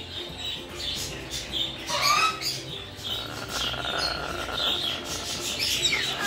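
A pet macaw makes low growly squawks and chirps close by, rough bursts over a continuous noisy indoor background, with no talking.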